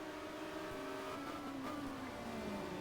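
Opel and Alfa Romeo racing cars from the 1990 WTCC round at Dubai, engines droning steadily at high revs with pitch sliding gradually downward as the cars run together, heard at a moderate distance.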